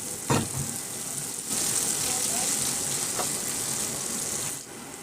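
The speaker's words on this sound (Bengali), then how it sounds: "এর মধ্যে আমি পেঁয়াজটা দিয়ে দেবো। পেঁয়াজ কুচি দিয়ে দিলাম, দিয়ে আমি আবারও ভালো করে নেড়ে চেড়ে নেবো।" Chopped onions sizzling in hot oil in a pan while cooking a pointed gourd fry, a steady hiss with a sharp spike as they go in, plus brief stirring sounds.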